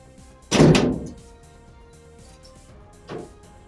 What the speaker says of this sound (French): Ferme la porte derrière toi.